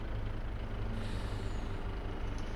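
A truck's air brake hisses in Farming Simulator 22, a steady release of air over a deep idling engine rumble, close and even throughout with no talking.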